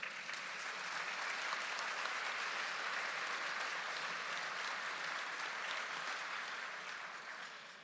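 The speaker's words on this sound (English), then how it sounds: "let's give them a round of applause" An awards ceremony audience applauds city commissioners, a dense, steady wash of clapping from a large crowd that holds for several seconds and then begins to fade.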